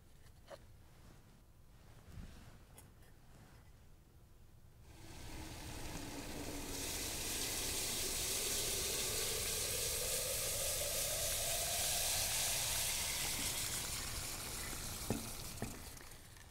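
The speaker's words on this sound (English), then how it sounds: "I'm going to fill this can with liquid nitrogen." Liquid nitrogen poured into a can gives a loud, rushing sizzle and hiss that builds after a quiet start, holds steady and then eases slightly, heard close with no talk.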